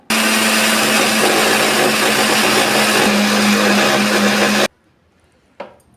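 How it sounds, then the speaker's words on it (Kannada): A mixer grinder powdering sugar with four cardamom pods, a loud, steady whirring grind running for several seconds before it cuts off abruptly, followed by a brief clack. "ಅದನ್ನು ಮಿಕ್ಸಿ ಜಾರ್ನಲ್ಲಿ ಹಾಕ್ಕೊಳಕತ್ತೀನಿ ರೀ. ಒಂದು 4 ಏಲಕ್ಕಿ ಹಾಕ್ಕೊಂಡು ಇದನ್ನು ನುಣ್ಣಗೆ ಪೌಡ್ರ್ ಮಾಡಿಕೊಂಡು ಬರೋಣ್ರಿ."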